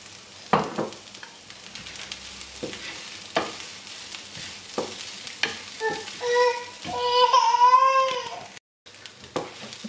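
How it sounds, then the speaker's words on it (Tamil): Grated coconut fries and sizzles in a pan for a Chettinad chicken curry, with a soft steady crackle, scattered stirring scrapes and clicks, and a brief louder burst near the end. "லைட்டாக பொன்னிறமாக வரைக்கும் வறுக்கணும்"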